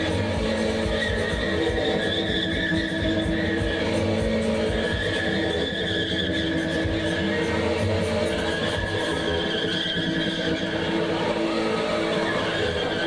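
A car spinning with screeching, skidding tires at a venue made for spinning, a loud continuous squeal over revving engine noise that holds steady throughout.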